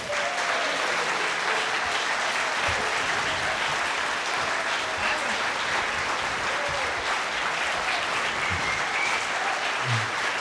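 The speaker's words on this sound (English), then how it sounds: "I want a huge round of applause" A large audience at an evening gathering with island elders applauds steadily and loudly for the full stretch, dense clapping with a few scattered cheers and no talk over it.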